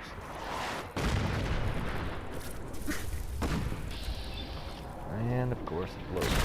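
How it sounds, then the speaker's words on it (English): Artillery strike in Fallout 4 brings a string of deep booms and thuds, one sharp hit near the start followed by rumbling impacts, with a voice talking briefly near the end. "The artillery strike has come."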